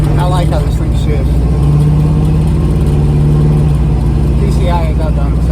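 A roughly 40-year-old car with a newly replaced printed circuit drives on a test run, its engine humming steadily close by while a person talks over it.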